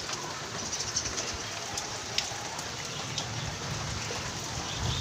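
Steady rain pours down over a rooftop terrace in Chennai, a dense continuous hiss of drops striking surfaces with a few sharper taps, close and unbroken throughout with no talking.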